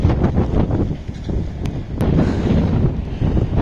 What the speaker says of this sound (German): Mein Gott, was ist denn das? Wahrscheinlich stärkster Wind.